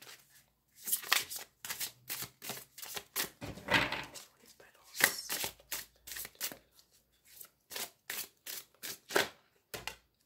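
Tarot cards shuffled by hand in quick bursts of crisp riffling and slapping, close and fairly quiet, with brief pauses between runs.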